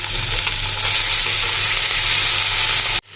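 Continuous loud sizzle of onions frying with cumin, ginger and garlic in a pan, stirred now and then, cutting off abruptly at the end.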